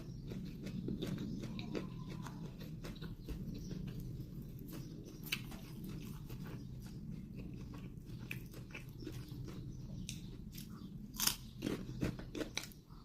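Someone eating Thai pork intestine larb, with close, steady chewing and crunching that runs throughout, a few sharper bites near the end, and no talking.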